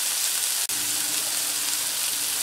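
Chopped tomatoes and turmeric sizzle steadily in a hot pan for paneer bhurji, a continuous loud frying hiss broken by a single brief click early on.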